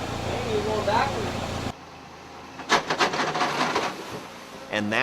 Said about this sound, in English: that is the sound of a busted transfer case